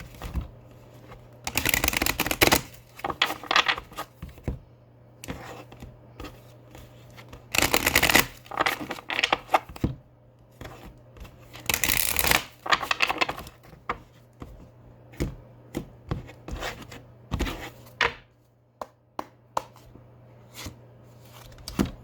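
Chakra oracle cards being shuffled by hand, with repeated riffling bursts and soft papery slides and taps spread between quieter pauses, close up and fairly faint.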